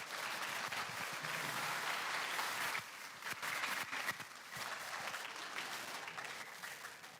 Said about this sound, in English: Let's give them all a big round of applause for making it through their first quarter.